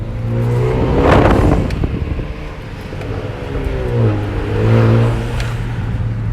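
A 2018 Honda Accord with a Borla exhaust revs up twice with a deep, throaty exhaust roar, rising and falling, close by and loud with no talking.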